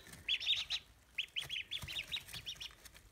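A cluster of small ducklings peeping rapidly, high thin chirps overlapping in quick bursts, close by against soft background noise.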